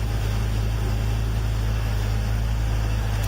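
A custom engine-swapped Toyota idling, giving a smooth, steady low hum that runs unbroken and fairly close with no voices over it.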